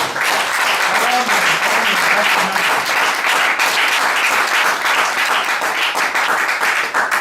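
A church congregation applauds during a Sunday service, a dense, steady wash of clapping that holds evenly loud throughout, with faint voices and cheers mixed underneath.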